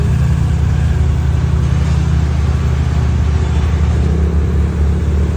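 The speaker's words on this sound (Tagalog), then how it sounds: "Traffic pa din as usual." Dense road traffic near a flyover in Bocaue, beside a road under construction, rolls past as a loud, unbroken low rumble of car and engine noise, with no voices standing out.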